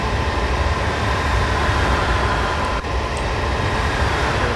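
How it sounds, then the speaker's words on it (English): Chiltern mainline train in Train Simulator 2018 rumbles past on the Metropolitan Line near Wembley Park, a steady loud broadband roar with a brief clank partway through. "Okay, Chiltern mainline train"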